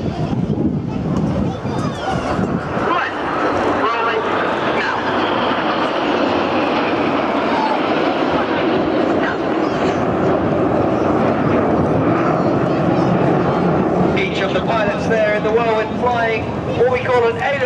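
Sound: Red Arrows jets flying the Whirlwind manoeuvre at air show

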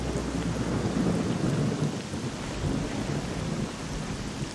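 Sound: rain and thunder in video game S.T.A.L.K.E.R

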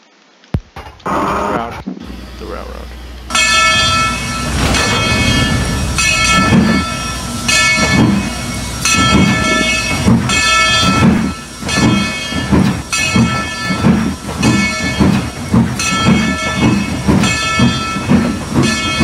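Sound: Denver & Rio Grande Western 14 steam locomotive departing

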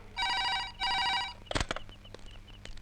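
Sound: telephone ringing

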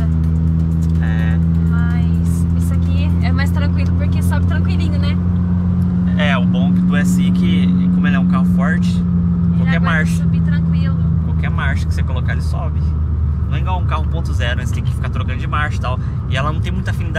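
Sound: Honda Civic car being driven

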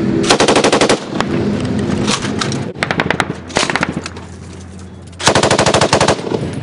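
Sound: light machine guns firing into an alleyway

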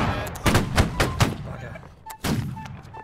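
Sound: gunfire in the video game Holdfast: Nations at War

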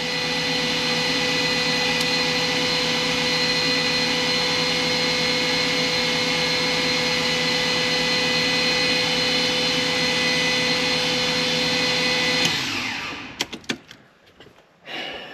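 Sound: BMW E46 328i turbo engine cranking on starter

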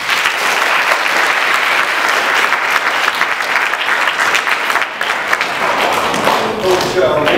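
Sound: audience applause for a student

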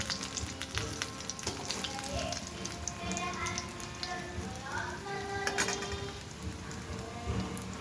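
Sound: eggplant and potato chips deep frying in oil

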